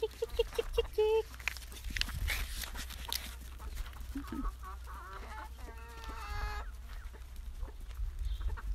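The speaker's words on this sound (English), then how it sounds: "They follow me. They follow the chickens." Chickens cluck and squawk close by in a short bursty series, some higher calls mixed in, over a low steady background hum.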